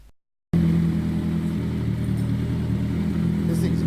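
A Kawasaki 750 Turbo motorcycle engine idles nearby, a steady low rumble that starts abruptly after a brief silence and continues evenly.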